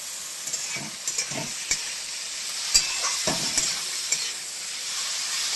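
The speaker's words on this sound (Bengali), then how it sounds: "এবার একে একে চিংড়ি মাছ এই দেখুন করে দিচ্ছি তেলের উপর" Local prawns dropped one by one into hot oil, a continuous close sizzle broken by brief crackles and spatula taps, no speech.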